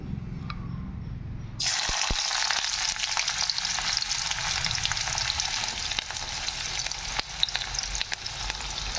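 Chopped onion, garlic, green chilli and coriander hit hot oil in a wok, bursting from near silence into a loud, close, continuous sizzle with crackling spatter that carries on to the end.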